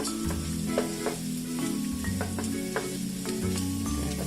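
Chopped garlic sizzling and crackling in hot cooking oil in a pan for adobo, a steady close frying hiss with scattered pops and a few stirring scrapes, no talking.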